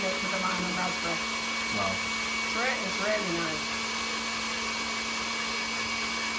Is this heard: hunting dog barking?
no